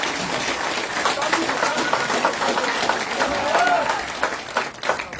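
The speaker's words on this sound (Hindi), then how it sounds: "जोरदार तालियों से स्वागत" A seated audience at a BJP felicitation ceremony in Jammu and Kashmir applauds the welcome of newly nominated Rajya Sabha MP Ghulam Ali Khatana. The clapping is loud and continuous for about five seconds, with voices and a speaker audible over it.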